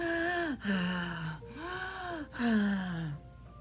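A voice imitating a monster's heavy panting, three long raspy breaths with falling groaning tones, close and loud.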